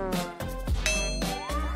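A phone notification sounds as a few quick bright dings in close succession, loud and clear with no voices.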